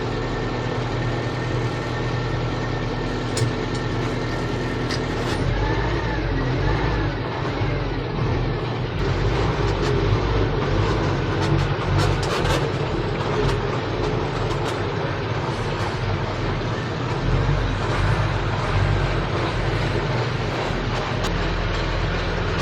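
A Russian 6x6 truck drives along a narrow road, its engine producing a steady, loud low rumble and drone throughout, with road and cab noise and no speech.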